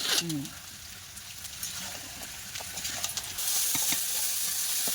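Spice paste of garlic, ginger, onion paste and turmeric sizzles and is stirred in oil in a pan for a Bengali duck curry, a steady frying hiss with scraping strokes, while a voice briefly speaks over it.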